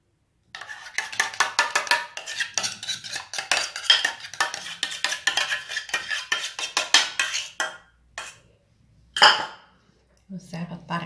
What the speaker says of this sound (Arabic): غادي نخوي هاد الكريمه فوق الكريمه الاخرى